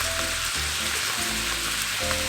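Spicy pork sausage and chopped white onion fry in a pan, giving a steady, close, dense sizzle throughout with no voices.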